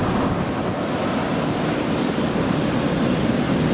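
A large Wamos Air airliner at Manchester Airport, a loud, steady, broad engine roar that stays constant throughout, close and continuous with no voices.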